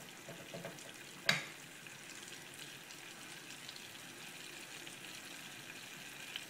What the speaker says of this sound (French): une fois que le beurre est fondu, on ajoute les 2 cuillères à soupe de farine du coup